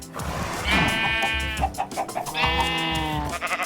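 Minecraft sheep in a barn bleat in a couple of long wavering calls, fairly close and clear over soft game ambience, no voices.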